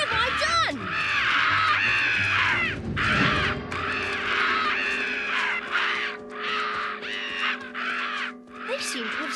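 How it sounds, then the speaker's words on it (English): Crows cawing repeatedly in a farmer's field, a series of harsh, loud calls coming in quick bursts with a few wailing, moaning voices mixed in. "No wonder the crows didn't follow me."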